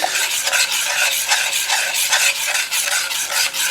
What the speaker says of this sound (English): So now this is simmering. We're going to start by adding oil, about a tablespoon or two at a time.